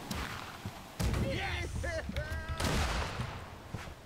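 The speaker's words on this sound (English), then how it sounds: "Fire the fucking cannons!" Ship cannons fire in the pirate naval game Blackwake, heavy booming blasts landing in a couple of loud bursts amid battle noise, with shouting players talking over the action.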